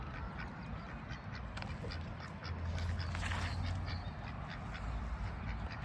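Ducks quacking steadily in a farmyard among crops and livestock, a dense overlapping chorus of nasal calls close by, loud and continuous with no voices.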